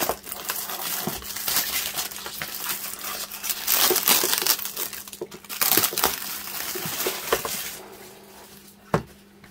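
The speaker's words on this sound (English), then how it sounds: "I'll apologise in advance for the noise of ripping this paper off" Close, crackling rips and crinkles of paper being torn off the packaging of a reef aquarium water test kit in repeated bursts, with occasional light clunks.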